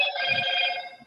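A mobile phone rings with a bright electronic ringtone, steady and fairly close, fading out toward the end, with no talking over it.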